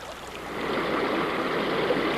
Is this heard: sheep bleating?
no